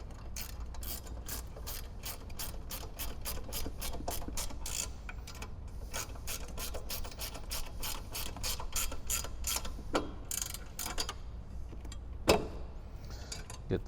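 A hand ratchet tightens bolts on heavy-duty front light mount brackets of a Jeep Wrangler JK, giving a long run of quick, even clicks up close, quiet overall, with a few louder knocks near the end.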